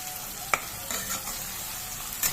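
Green chilies and tomatoes stirred in a pan for a mushroom dish, a quiet close sizzle with a few sharp scrapes and knocks of the spoon against the pan.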